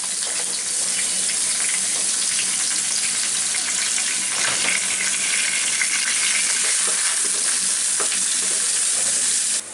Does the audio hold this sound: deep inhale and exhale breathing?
no